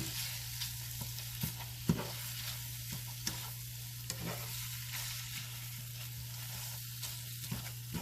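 Ground beef seasoned with salt, pepper, garlic powder and onion powder is stirred in a pan: a soft, low sizzle with scattered scraping taps of a utensil over a faint steady hum.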